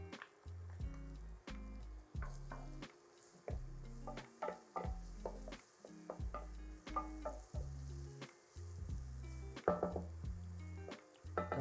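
Garlic sizzles in a pan of caramelized onions, a steady close fry with repeated stirring and scraping knocks in an uneven rhythm and no talking.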